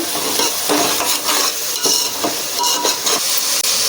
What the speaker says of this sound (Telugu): ఇది మొత్తం కలిసేటట్టుగా కలుపుకోవాలి.